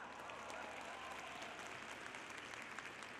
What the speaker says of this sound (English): Let's give a huge round of applause to those amazing singers